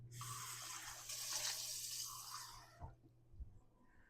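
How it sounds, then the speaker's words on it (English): Water poured from a tap or cup into a hot pan of frying eggs just before a lid goes on for steaming, a loud rushing splash for nearly three seconds that cuts off into a couple of faint knocks. "I'm going to grab a splash of water."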